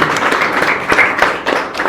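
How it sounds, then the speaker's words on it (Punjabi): Audience clapping and applause in a classroom setting at an institute, a dense patter of many hands sustained for a couple of seconds, fairly close and loud, with a few sharper claps standing out. "ਤਾੜੀਆਂ"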